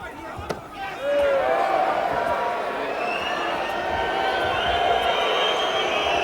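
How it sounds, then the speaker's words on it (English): A boxing arena crowd hoots, whistles and hollers in a loud, dense swell that rises after a sharp thump and holds steady, with a commentator talking over it. "Crowd starting to hoot and holler right now."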